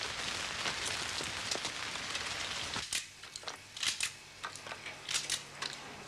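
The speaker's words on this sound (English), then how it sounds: "You have to talk out here in the rain." Rain falls outdoors as a steady hiss of drops, then thins into scattered crackling taps and spatters close by, with a faint low hum underneath.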